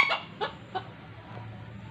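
Ornamental bantam chickens (ayam kate) cluck close by: three short, separate clucks in the first second, then a quieter one, over a low background hum.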